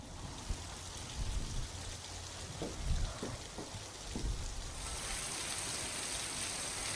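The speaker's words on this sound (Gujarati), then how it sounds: "આજે પણ ગાજવીજ સાથે વરસાદ વરસ્યો।" Steady rain falls over Talala in Gir Somnath, Gujarat, during a thunder-and-rain spell, a soft continuous hiss with a few dull low thumps and no one speaking.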